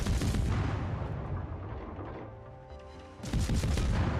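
Warship guns fire in World of Warships: heavy booming salvos with a rumbling tail that fades, then another loud burst of artillery fire near the end, with no talk.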